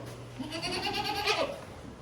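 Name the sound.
goats bleating in milking room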